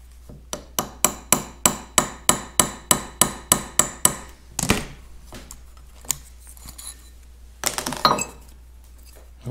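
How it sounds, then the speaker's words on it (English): Sharp metallic taps strike in a quick, even run of about a dozen blows while an old metal data tag is removed from a Farmall H distributor, followed by scattered clinks and scrapes of metal parts nearby. "I'm going to remove that tag and we'll stamp a new one"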